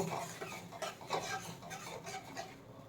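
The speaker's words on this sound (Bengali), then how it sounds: "সেই মশলাটা এবার এর মধ্যে আমি দিয়ে দেবো এবার একটু নাড়িয়ে নেব" Spice paste mixed with yogurt is stirred into a small-fish curry in a pan, giving quiet scraping and wet stirring clicks, faint and close, with no talking.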